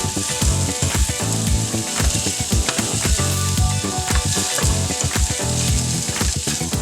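Breakfast sausage patties fry loudly in a pan, a dense continuous sizzle and crackle broken by frequent sharp scrapes and taps as a spatula flips and presses them, close and steady with no talking.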